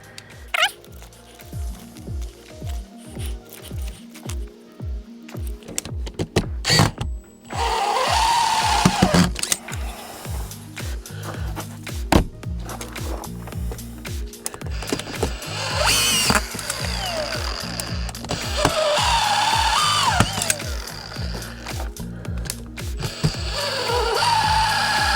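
A Makita DFR551Z 18V brushless auto feed screwdriver drives screws into wood in a series of loud, repeated motor whirs, short bursts at first and then longer sustained runs, with faint speech now and then.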